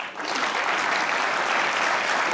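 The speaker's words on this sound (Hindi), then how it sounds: "जिसको लगता है कि मोहम्मद अली सबसे बुरे स्केच चेहरे में, तालियां बजाएं।" Studio audience at a comedy show breaking into applause, a quick swell into full, even clapping that lasts about two seconds.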